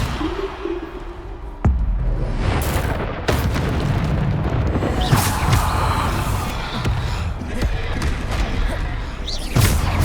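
Bombarda explosion spells cast in the Hogwarts Legacy game, a dense barrage of loud booms, thuds and whooshes rolling one into another over continuous battle noise, with brief voice snatches mixed in.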